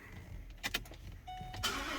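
A Ford 5.4 V8 engine, previously running rough with a camshaft phaser misfire, is cranked with a few quick starter whirs and then catches into a steady idle, heard up close and fairly quiet.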